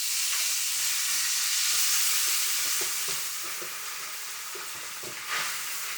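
Spaghetti and king prawns sizzle in a frying pan with a steady, bright hiss, broken by soft stirring clatters and scrapes, loud at first and settling slightly quieter.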